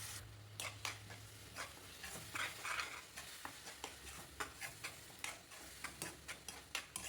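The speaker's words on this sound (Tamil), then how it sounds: "தக்காளி, இஞ்சி, பூண்டு, முந்திரி, பாதாம் இது எல்லாமே சேர்த்து நல்லா கிரைண்ட் பண்ணி அந்த பேஸ்ட்டையுமே சேர்த்து நல்லா வதக்கி விட்டுருங்க." A ground paste of tomato, ginger, garlic, cashew and almond is stirred and sautéed in a pan, giving a low sizzle with repeated soft scraping taps of a spoon against the metal, close and steady.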